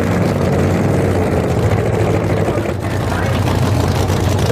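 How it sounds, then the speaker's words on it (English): A nitro-fuelled drag racing car engine keeps running after a start-line problem, a loud, dense, continuous rumble with a commentator talking over it. "The engine is still running"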